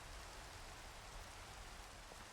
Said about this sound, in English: Oh no, it is raining for a few seconds.